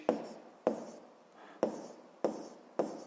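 Five short, sharp pen taps and scratches fall at roughly regular intervals as a physics problem is written down, close to the microphone in a quiet room.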